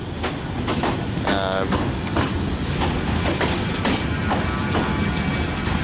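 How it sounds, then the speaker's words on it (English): A tram departs Altrincham for Piccadilly, rolling away with a steady rumbling hum, rhythmic clicks over rail joints and a brief whine, fairly close with no talking. "we've got the tram departing for Piccadilly."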